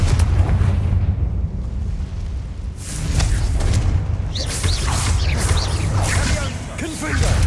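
The Confringo blast spell in a Harry Potter video game, a loud booming explosion with whooshing bursts that swell and fade over several seconds, no talk over it.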